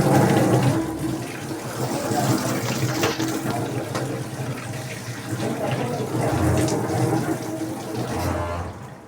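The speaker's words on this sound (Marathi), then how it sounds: "धुवून झालेत आता आंबे." Running tap water splashes steadily as mangoes are washed underneath, a continuous close rushing stream with small shifts in flow and faint voices in the background.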